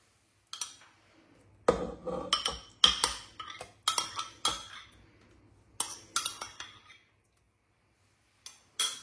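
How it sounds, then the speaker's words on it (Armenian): Cake batter with oil and matsun (yogurt) is stirred in a bowl, making bursts of quick, close metallic clinks and taps separated by short quiet pauses. No one speaks. "բուսայուղը ավելացնելուց հետո մի փոքր հարում ենք, ավելացնում եմ մածունը"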